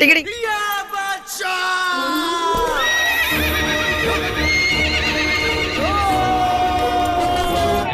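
A horse in Varanasi whinnies in long, loud calls while hooves clip-clop during a ride, with people's voices faintly in the background.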